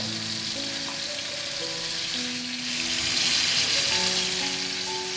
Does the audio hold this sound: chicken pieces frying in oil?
yes